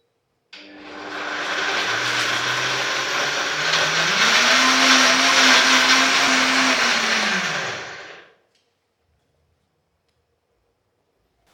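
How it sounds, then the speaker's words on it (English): A blender purées red peas into a paste for a Jamaican chicken foot and cow skin soup, a loud steady whir of about eight seconds whose motor pitch rises partway through, then cuts off to silence. "I'm going to blend all of this into a paste"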